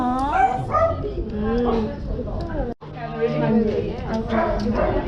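A border collie at an Australian animal welfare organisation gives excited barks, yips and whines close by. People talk and react over the dog's rising and falling cries.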